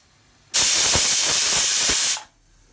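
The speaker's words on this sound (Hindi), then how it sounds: "देखिए गाइस एक सीटी आ गए हैं" A pressure cooker cooking rice lets out one loud, sharp steam whistle, a hissing blast of about a second and a half that starts and stops abruptly in a quiet kitchen.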